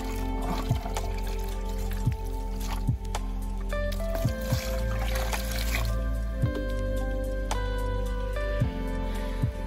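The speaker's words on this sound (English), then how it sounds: "Let's add a little more water to make sure everything is covered." Water being poured into a container holding gold-plated scrap pins, a steady trickling and dribbling with a constant liquid stream and small splashy bursts throughout, close and moderately loud with no talking.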